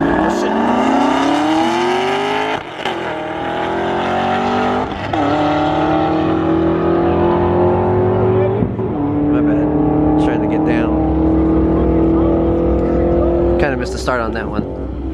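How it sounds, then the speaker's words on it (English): A Camaro race car accelerates hard down a half-mile track, its loud engine note climbing through several gear shifts, each marked by a brief break and a rising pitch. People talk over it close by. "Camaro missed the gear down there"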